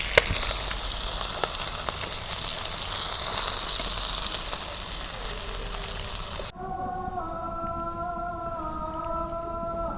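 Rupchanda fish sizzles steadily in hot oil in a village kitchen, a loud, dense frying hiss for about six seconds before it drops away and a steady tonal whine with faint crackle takes over.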